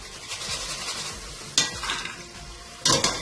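Sizzling deep-frying oil crackles steadily as batches of French fries are lifted out with a metal scoop, two louder scraping lifts standing out above the constant hiss, close and with no one talking.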